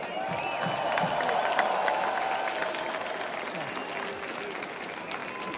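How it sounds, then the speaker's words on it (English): A concert audience in an arena applauds and cheers, a dense wash of clapping with whoops, heard at a moderate distance and fading slightly toward the end. "A round of applause."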